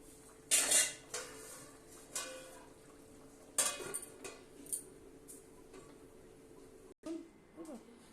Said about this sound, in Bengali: এবার একটু নেড়ে দেবো নেড়ে ঢাকা দিয়ে আমি গ্যাসটা বন্ধ করে দেবো